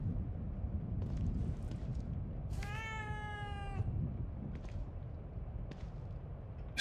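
Cat in the video game The Evil Within 2 gives a single drawn-out, clear meow lasting about a second, heard over a constant low rumbling game ambience with occasional faint clicks.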